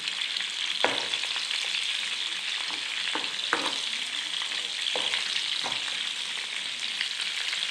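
Prawns fry in a pan with a continuous close sizzle, broken by several soft knocks and scrapes as the pieces are turned.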